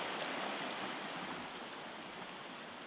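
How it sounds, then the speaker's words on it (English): A nearby river rushes steadily past a homestead surrounded by mountains, a continuous broad close-up hiss of flowing water with no voices. "Got a river right next to us"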